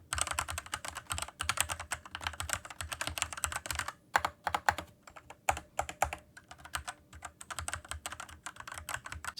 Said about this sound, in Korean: 키보드인 만큼 키보드를 한번 테스트를 해볼까 하는데요